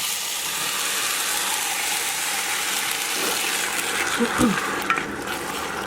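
Crushed San Marzano canned tomatoes being tipped into a pot of braising lentils, a steady sizzling hiss with soft wet plops and a brief splatter near the end, close and without talk.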